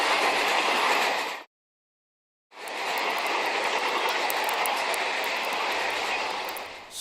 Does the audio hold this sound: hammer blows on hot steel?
no